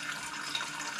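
Filtered water pours steadily into a pot for steaming broccoli, a brief continuous splashing stream close by with no talking.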